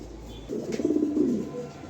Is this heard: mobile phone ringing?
no